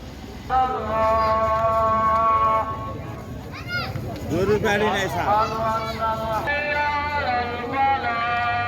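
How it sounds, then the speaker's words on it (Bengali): A Muslim call to prayer sounds at a busy cattle market before Eid sacrifice: long, melodic sustained chanting from a loudspeaker voice, loud and carrying, over crowd murmur and other voices. "এখন আজান দিচ্ছে"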